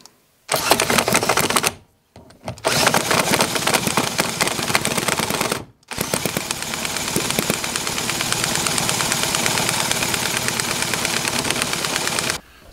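A miniature Cison V-twin engine modeled on a Harley-Davidson starts and runs with a rapid, loud popping rhythm, cutting out briefly twice before settling into continuous fast running.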